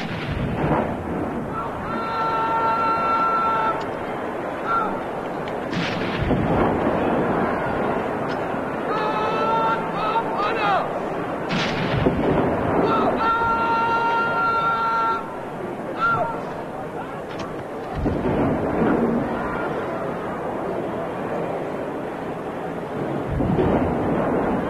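Artillery booms out a 21-gun salute across a stadium at the 1982 Brisbane Commonwealth Games opening ceremony, heavy blasts repeating every few seconds and echoing amid crowd noise and commentary.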